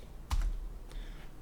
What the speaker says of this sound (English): I'm going to hit S on the keyboard to keyframe that